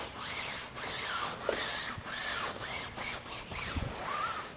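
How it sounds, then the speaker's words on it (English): A nylon flag-tip brush scrubs matte car paint in repeated rhythmic back-and-forth strokes, each a soft swishing rub. It is close and fairly quiet, with small taps between strokes. "now I'm going to brush to deep clean. This is a flag tip nylon brush."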